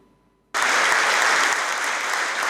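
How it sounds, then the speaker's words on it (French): Thunderous applause from a crowd in an amphitheatre at the École nationale d'administration, starting abruptly after a short quiet and then holding steady, loud and dense, with no voices audible. "Un tonnerre d'applaudissements dans cet amphithéâtre de l'École nationale d'administration"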